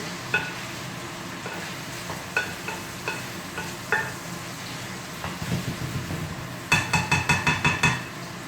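A spoon stirring meatball mixture seasoned with ground pepper in a bowl, giving a series of soft scraping clinks at a steady, unhurried rhythm, then a quicker run of sharper taps near the end, close and fairly quiet.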